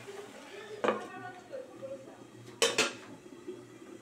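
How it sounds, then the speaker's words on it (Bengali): A pan of restaurant-style masala paneer gravy is stirred after its lid comes off: two sharp metallic clanks of utensil on pan over faint scraping, while someone talks throughout. "একটু ঢাকাটা খুলে নিলাম, তারপর ভালো করে আমি মিশিয়ে দিচ্ছি।"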